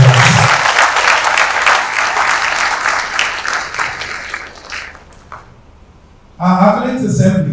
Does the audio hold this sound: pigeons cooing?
no